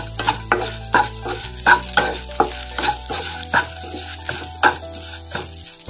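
Ingredients for a Palakkad-style raw jackfruit fry sautéing in a pan, the spatula scraping and tossing in a regular rhythm over a constant sizzle, close up and fairly loud, with no voices.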